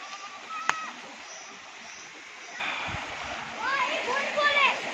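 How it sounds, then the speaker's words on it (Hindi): Small waterfall and mountain river in Uttarakhand, a steady rushing wash of water that grows fuller and louder midway, with birds chirping over it and people talking nearby. "ओ वाओ सी गाइस, यहाँ पे एक छोटा सा वाटरफॉल भी है।"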